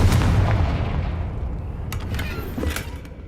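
A Confringo fire spell blasts in Hogwarts Legacy, a heavy booming burst up front that decays into a rumbling roar, with a couple of sharper crackling impacts trailing behind.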